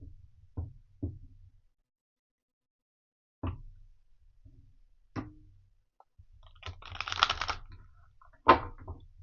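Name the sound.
shuffling a deck of oracle cards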